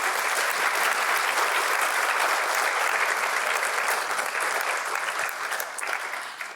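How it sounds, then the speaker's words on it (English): A round of applause from a symposium audience after a talk, dense and sustained clapping at moderate distance that thins out slightly toward the end. "Can we give her a round of applause,"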